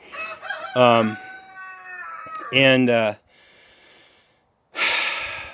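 Several chickens call out in loud, harmonic squawks and crowing-like bursts, separated by quieter breathy gaps, close to the listener.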